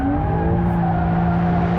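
A Porsche 911 Carrera 2S driven hard and sliding, its engine holding a loud, steady, sustained roar with a tonal drone and rough texture, close and continuous throughout, with no voices.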